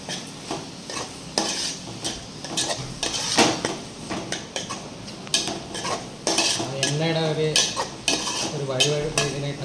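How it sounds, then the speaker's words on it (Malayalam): A utensil stirs Kerala-style fish head curry in a pan with green chillies and garlic, giving loud scraping and clinking strokes in an irregular rhythm over a soft sizzle of frying, close up and without voices. "നന്നായിട്ട് ഇളക്കി കൊടുക്കണം"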